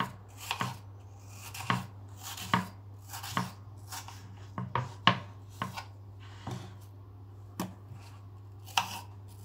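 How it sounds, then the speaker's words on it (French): A knife cuts peeled apples into thin slices on a board, with about a dozen crisp, separate chops at an uneven but steady pace, close and clear with no talking. "Je coupe mes pommes en petites lamelles comme ça"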